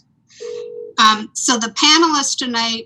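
During an online town planning board webinar, a telephone tone and dialing beeps sound close and clear at the start, then someone speaks over the line.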